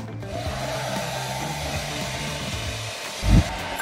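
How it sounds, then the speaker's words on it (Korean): A hair dryer blows steadily with a whooshing hum, close to the listener, followed by a brief low thump near the end. "방금처럼 드라이기를 드린 이유가"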